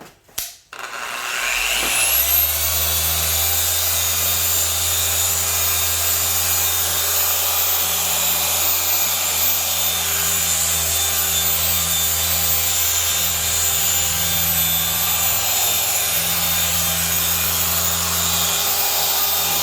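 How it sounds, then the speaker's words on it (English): A dual action polisher running at speed 4.5 across glossy piano black trim pillars on a car, a loud, steady droning hum that starts after a brief clatter and holds for about twenty seconds. "just give it one more pass here"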